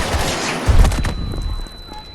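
Pistol and shotgun fire in Battlefield 2042 Spearhead gameplay, with a loud burst of heavy shots and booms early on followed by scattered fainter reports and rumble.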